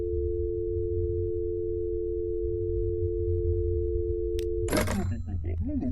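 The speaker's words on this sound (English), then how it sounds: "Pick up the phone and dial a number." A steady, unbroken telephone dial tone in the game That's Not My Neighbor hums for several seconds, then cuts off abruptly as a voice begins speaking.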